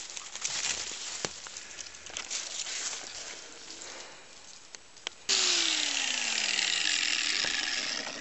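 A power tool fitted with a bigger cutting wheel bites into a sun visor, quiet ratcheting clicks first, then an abrupt loud whirring grind with a falling tone that persists to the end.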